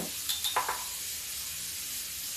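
Cumin and garlic fry in hot oil with a continuous close sizzling hiss, a few faint clinks of a spoon near the start, and no talking.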